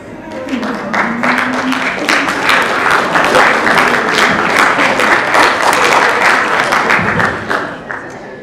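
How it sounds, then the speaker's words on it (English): An audience at a school sister-exchange event applauds loudly, with dense, sustained clapping that swells and then tapers off at the end. "we do need to give a big round of applause"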